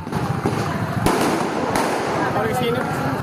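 A couple of sharp, loud firecracker bangs cut through a noisy crowd scene with voices and commotion underneath, during a street brawl at the Manggarai tunnel in Jakarta.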